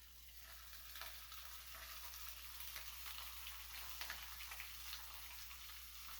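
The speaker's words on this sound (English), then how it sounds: "So I'm gonna flip this bacon. Sounds like I need to flip it." Bacon frying in a pan on top of a woodstove, a steady close sizzle and crackle with faint ticking pops over a low constant hum, no talking.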